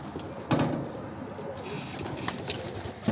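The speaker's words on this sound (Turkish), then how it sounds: "Kuşlar delirmiş ha." Pigeons cooing softly nearby, low repeated murmuring calls with light background noise.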